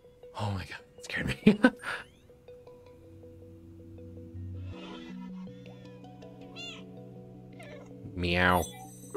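A cat in the video game Stray meows in a few short bursts near the start and once more near the end, set over sustained, soft game music tones.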